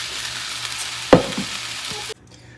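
Fried flat beans sizzle faintly as a ground mustard, poppy seed and coconut paste goes in, with a sharp scraping clatter of stirring midway before the hiss cuts off near the end.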